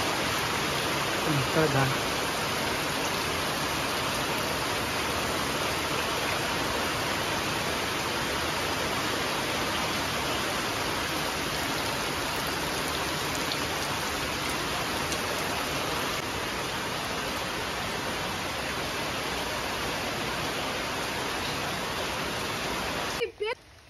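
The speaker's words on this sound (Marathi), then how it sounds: "मस्त पाऊस पडतोय बघा" Steady rain falls outdoors in the countryside, a constant loud wash of hiss over the whole stretch, cut off abruptly at the end, with a brief voice near the start.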